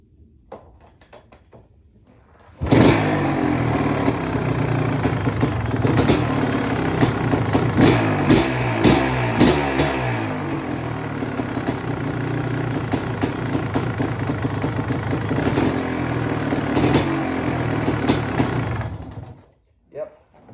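A 1991 KTM 500 two-stroke motorcycle cold-starts in a garage: after a quiet lead-in the engine bursts to life and revs loudly and raggedly for about sixteen seconds, then cuts off abruptly.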